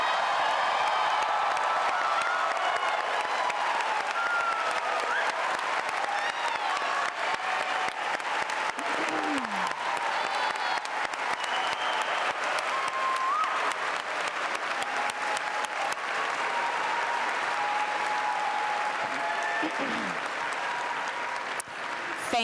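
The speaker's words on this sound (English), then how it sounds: "Let's give them a rousing round of applause." Sustained crowd applause for the graduating class at Sacred Heart Cathedral Preparatory's 2023 commencement, a steady dense clatter of many hands with scattered whoops and cheers rising throughout, lasting over twenty seconds.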